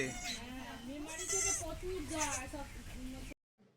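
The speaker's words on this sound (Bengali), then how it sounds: "আমাদের যে একটা ছাগল আছে না তার একটা বাচ্চা হয়েছে" A young goat kid bleats in a series of high, wavering cries close by on a farm, loud and filling nearly the whole span before cutting off abruptly near the end.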